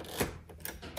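A 1954 Silent Super typewriter has a tab set, giving a couple of quick, close mechanical clicks and clacks in quiet surroundings.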